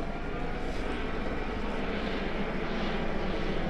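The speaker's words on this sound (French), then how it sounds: "Il y a un hélicoptère au-dessus." Helicopter flying overhead above a mountain trail near Banca, a steady, dense rotor-and-engine drone holding level and fairly loud for the whole stretch.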